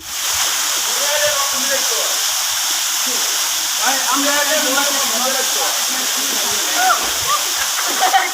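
A waterfall pours between two hills in a Bangladeshi hill-stream gorge with a steady, broad rushing hiss, while voices talk over the water throughout.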